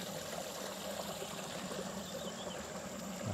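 A small river flows across a six-acre orchard plot at Batang Kali, making a steady, faint, continuous rushing and trickling wash with no voices.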